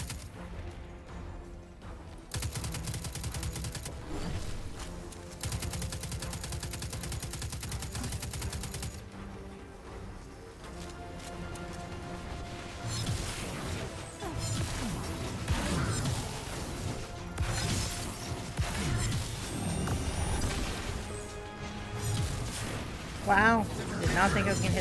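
Gunfire in the Destiny Warmind video game, dense bursts of automatic shots and heavy blasts layered with explosive crashes, loud and continuous, with a player talking over the action.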